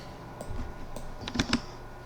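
A handful of quick keystrokes on a computer keyboard, clicking sharply and close against a quiet room, with a short burst of taps toward the end.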